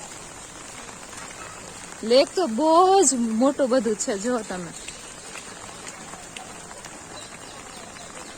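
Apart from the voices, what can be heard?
rain falling at City Palace, Udaipur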